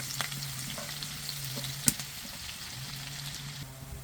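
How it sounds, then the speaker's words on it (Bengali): Chopped onions sizzle softly in hot oil in a frying pan, a steady crackling with a low hum behind it and one sharp clink partway through. "পেঁয়াজটা একটু ভালো করে ভাজিয়ে লই।"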